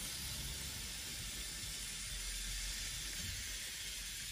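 A pipe freeze kit sprays refrigerant onto a pipe, making a faint, continuous hiss like escaping gas that holds steady throughout without any talk.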